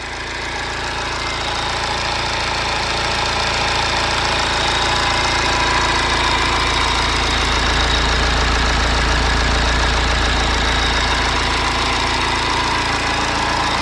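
A BMW N47/N57 diesel car engine idles steadily up close, a constant rattly knocking drone that swells slightly and holds throughout.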